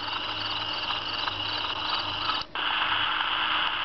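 A steady, dense chorus of recorded night creatures from an alarm clock's speaker, frog croaks and cricket trills blended into a continuous buzz, with a brief dropout near the end.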